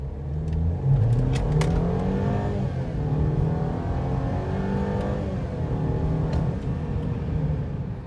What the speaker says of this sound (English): Now I'll just take it out in the street just to give you a sense of the acceleration.